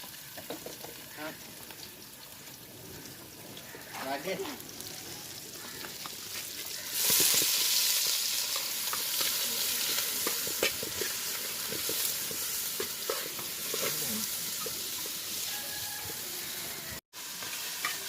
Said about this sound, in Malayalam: ഉള്ളി ഇട്ടിക്കണോ?